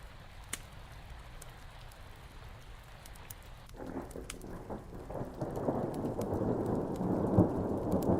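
Steady rain patters through a stormy night, then a deep rumble of thunder rolls in partway through and builds, the downpour growing fuller and louder toward the end with no voices.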